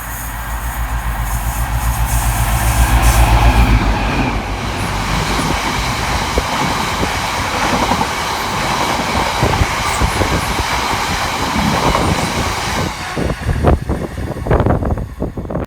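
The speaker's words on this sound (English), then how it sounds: "That rumbling in the distance is the arrival of 60055, working 6 Zulu 60 from Willesden DC rail siding through to Merehead" Class 60 locomotive 60055 hauling a freight train from Willesden toward Merehead Quarry rumbles into Taplow station, a heavy, sustained low roar with wind buffeting and clanking wagon noise building toward the end.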